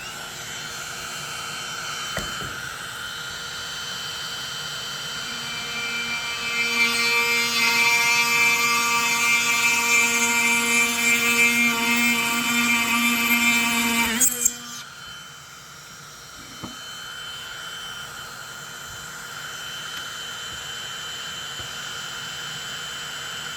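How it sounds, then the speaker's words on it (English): Dremel rotary tool drilling finger holes into a rosewood drone flute: a steady high-pitched motor whine with a harder, louder grinding stretch in the middle, then easing back to a lighter hum. "I'm going to drill my fingerings out with this"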